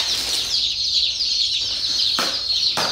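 Mixed poultry packed together in a surprise box from a poultry supplier, with ducks among them, give a steady busy clucking and chattering close by, with a couple of sharper bursts near the end.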